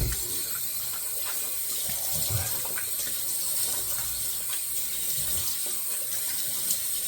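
A bathroom tap runs steadily at moderate volume while the face is wetted before a razor shave, with a few faint splashes from hands in the water and no speech.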